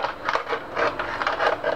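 A sharp utility knife scoring through a used plastic water bottle, heard as a close, loud rasping scrape repeated in several rough strokes, with no voices.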